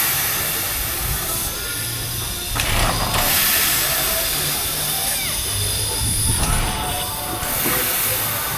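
Klondike Katie, the Dollywood steam train, pulling out with loud, close, continuous steam hissing and surging chuffs over a busy outdoor crowd.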